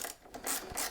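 Mechanical ratcheting while tightening bolts on the front bracket of a camel tank on a KTM 9X0, a short burst of clicking pawl strokes, close and alone.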